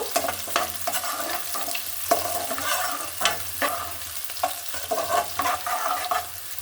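Chopped onion and slit green chilies fry in hot oil, giving a continuous close sizzle broken by repeated scraping strokes of a spoon as the mix is stirred.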